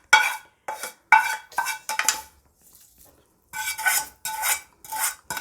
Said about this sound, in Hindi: हम इन्हें अच्छे से मिक्स कर लेंगे सब चीज़ों को।